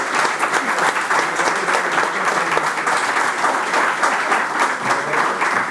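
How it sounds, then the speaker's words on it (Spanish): A loud round of applause fills a session hall at the SEPOR 2024 Chato Murciano pork event. A large audience claps densely and steadily for nearly six seconds, close and sustained. "Pues yo le voy a pedir un fuerte aplauso para José Luis"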